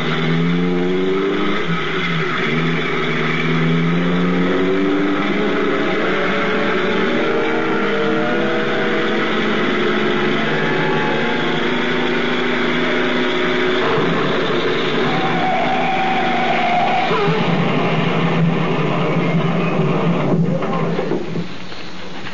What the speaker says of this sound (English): Try to crash that roadblock.